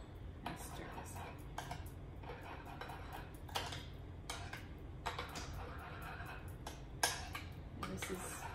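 Thousand Island dressing with white vinegar and onion powder stirred in a bowl, a run of close clinking and scraping strokes against the dish in an irregular rhythm over a low background hum.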